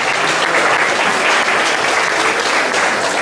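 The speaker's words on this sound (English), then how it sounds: "let's give her and her crew a round of applause for putting together a great race for us" Steady, dense applause from a crowd at a 5K road race awards ceremony in Rockford, Ohio, loud and continuous throughout with no voices over it.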